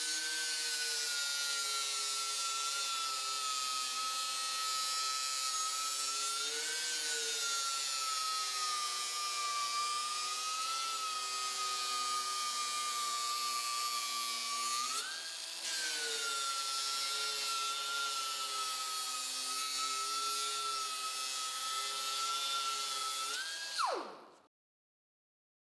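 3M Match and Finish belt sander with a 60+ grit abrasive belt grinding a weld off metal, a steady loud whine with a dip midway, running continuously before winding down abruptly at the end, with no talking.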